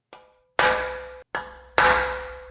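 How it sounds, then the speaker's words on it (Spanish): Four sharp metallic blows of a heavy hammer on a chisel set atop the cylinder head bolts of a 1.6 HDi engine, each strike ringing with a sustained tonal clang, in an uneven rhythm with brief silences between. "vas a poner un cincel arriba del tornillo y con un martillo contundente"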